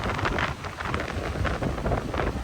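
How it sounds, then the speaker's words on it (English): Rain patters steadily on a sailing boat, a dense constant hiss with gusty wind noise throughout. "today we are sailing in the rain"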